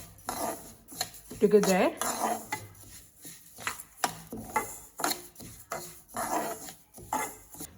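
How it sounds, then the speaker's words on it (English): Sesame seeds and urad dal dry roasting in a pan, with irregular scraping, rattling and clinking of a utensil against the metal, close and fairly quiet, while a voice briefly speaks. "we have to dry roast this sesame seed and this urud dal"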